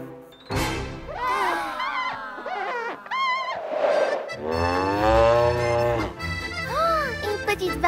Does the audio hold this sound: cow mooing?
yes